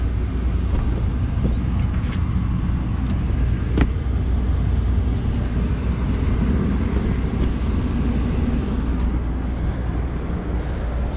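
A Carrier rooftop unit runs with a steady, heavy low rumble and broadband mechanical roar, plus faint intermittent ticks, continuous for the whole stretch with no talking.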